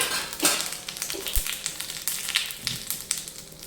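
Mustard seeds and cumin hit hot oil in a tempering for besan potato idli chutney, giving a light sizzle with scattered pops and crackles over several seconds.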